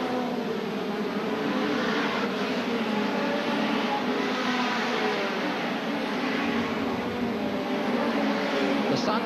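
Hot rod race cars lapping a track in a 1982 world final, a continuous dense engine roar from several cars passing, steady and loud throughout with no clear gaps.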